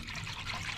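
Thick gravy mixture poured over chickens in a pan, a steady close trickling and splashing stream of liquid throughout a brief moment, no talk.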